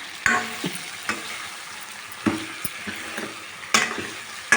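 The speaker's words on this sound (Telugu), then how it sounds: "తర్వాత చింతపండు రసం పోస్తున్నాం" Tamarind juice goes into a pan of simmering dried fish and raw mango curry, giving a steady sizzle and bubbling with several short stirring clinks and scrapes scattered throughout, close and moderately loud, with no talking.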